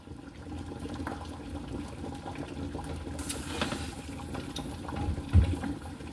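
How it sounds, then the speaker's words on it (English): Potatoes boil in a pot of water for a Cajun boil, a constant low bubbling and churning wash of sound with a brief louder bump near the end and no voices. "Gotta let it boil good"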